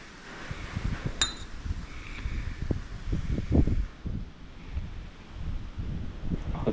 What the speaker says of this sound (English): And there goes everything with the wind.